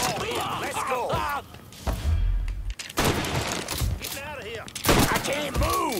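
Gunfire in Mafia 3 on Xbox One, a series of loud, sharp shots and bursts mixed with shouting voices and a heavy thud, sounding like a chaotic firefight.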